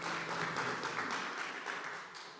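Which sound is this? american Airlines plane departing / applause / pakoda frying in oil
applause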